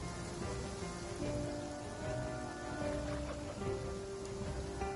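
Steady rain pours down in the game Genshin Impact, a dense, even patter on surfaces lasting throughout, with faint in-game tones drifting underneath.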